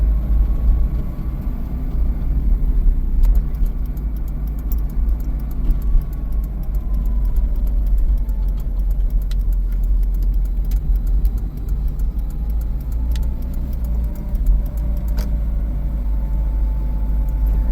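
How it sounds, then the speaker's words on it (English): Steady engine rumble from an Acura RSX driving, with occasional faint transmission clunks and light suspension rattles from underneath. "Besides the clunking of the transmission, there's some suspension noise for sure."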